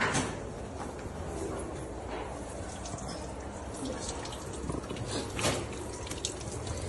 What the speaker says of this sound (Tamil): தண்ணி கையில் கொட்டுது